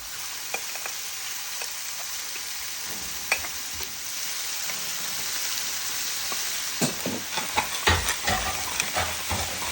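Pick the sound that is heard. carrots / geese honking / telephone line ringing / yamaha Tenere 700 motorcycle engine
carrots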